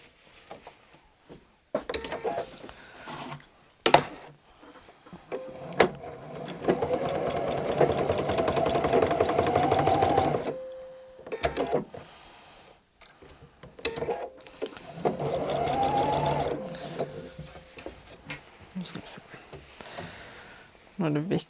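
A sewing machine stitches a jacket seam with pins in the fabric, running in two sustained bursts of steady mechanical whirring separated by quieter stretches with handling clicks and talk.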